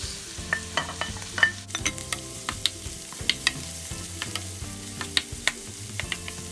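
Eggplant and tomatoes sautéing in a pan with sardines nearby, a continuous soft sizzle broken by frequent sharp clinks and scrapes of a utensil stirring against the pan, close and without talk.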